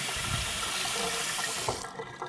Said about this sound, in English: make sure you run it under the cold water